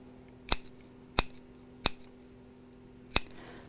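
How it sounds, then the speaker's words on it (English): Scissors snip fabric around a curved seam of a sewn tablet sleeve: four sharp, close clicks spaced about two-thirds of a second apart, then a longer pause before the last one, over quiet room tone. "just little snips around the curve section, and don't cut through the stitches"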